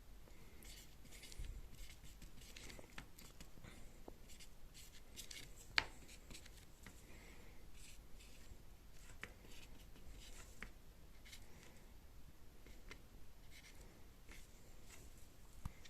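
Chalk or marker writes on a board during a physics lecture on refraction and prisms, giving faint, scratchy strokes and taps in a quiet room with no speech.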